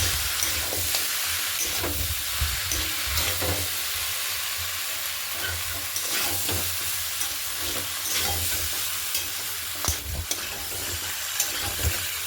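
Carrots and kohlrabi are stirred into masala frying with a katla fish head for a Bengali mixed-vegetable chorchori. A steady close sizzle runs under repeated scraping stirs, with no talking.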